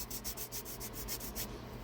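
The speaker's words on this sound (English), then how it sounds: "you can always fine tune it with sandpaper" Short, rhythmic rubbing strokes of a tongue depressor sanding down small wood sticks, about eight close, steady scrapes in a row that stop near the end.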